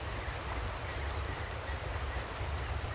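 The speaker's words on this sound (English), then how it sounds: "So you can see there is the waterfall bit." A waterfall beside the Ellis Line railway pours in a constant, dense rushing roar, steady and fairly loud, with no other distinct sounds.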